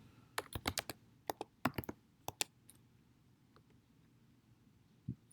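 Quick bursts of typing on a computer keyboard, clusters of crisp close keystrokes with short pauses between them, ending with a single later tap, heard alone in a quiet room.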